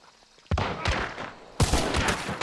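Rifle shots in the video game Hunt: Showdown, two sharp booming reports about a second apart, each with a long rolling tail, loud and close with no talk over them.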